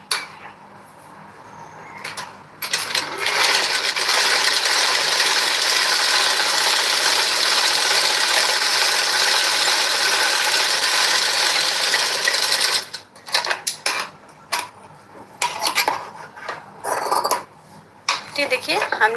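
A sewing machine stitches a blouse seam, running in a steady fast whir for about ten seconds after a quiet start, then breaking into short stop-start bursts of stitching near the end.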